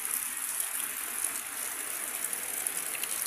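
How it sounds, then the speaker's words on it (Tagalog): Steady rain pours down during a day-long downpour with a power outage, a continuous even hiss of falling water with no pauses, close and fairly loud, no voices. "tingnan nyo yung ulan, guys"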